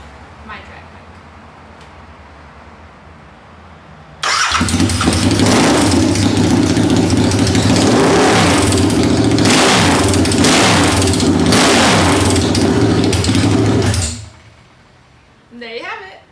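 A Royal Enfield 650 twin drag bike engine barks to life and revs hard, a loud raw roar with repeated throttle blips that holds for about ten seconds before cutting off abruptly.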